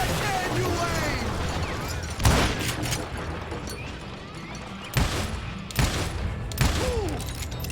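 Gunshots from Call of Juarez Gunslinger in an Old West shootout, a few sharp reports spaced seconds apart over a dense wash of music and effects, with voices in the background.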